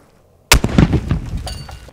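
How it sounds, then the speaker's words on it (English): A grenade explodes near trenches and a bunker during a combat patrol in Afghanistan: a sudden, loud close blast breaks a near-silence, then ragged crackling and rumbling bursts trail off. "Grenade!"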